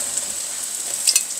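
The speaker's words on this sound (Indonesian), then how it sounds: "Aku goreng mendoannya nggak semua ya, secukupnya aja." Tempeh mendoan, battered tempeh, sizzles steadily in hot oil in a pan, a continuous hiss with a few louder crackles near the end, no voices.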